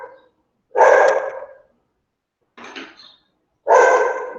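A female dog indoors gives three separate loud barks close by, spaced with silent gaps between them, and nobody speaks.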